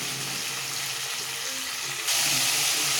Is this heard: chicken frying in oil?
yes